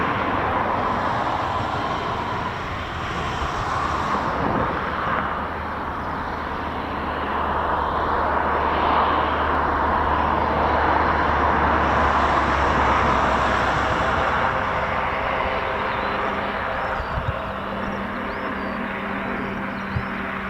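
A Phenom aircraft passes at a distance during an RAF pilot training flight, a broad roaring rumble that swells and fades over about twenty seconds.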